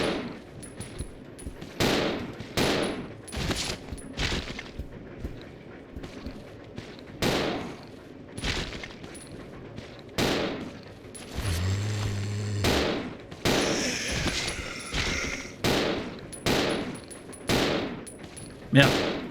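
Gunfire in the video game Resident Evil Zero, a steady series of loud, sharp shots spaced roughly a second apart, with a brief low tonal game sound midway and a voice talking between them.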